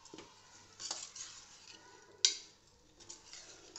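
Washed moong dal with spices is stirred in a pot for bajra khichdi, giving quiet scraping stirs close by, with one sharp metallic clink partway through.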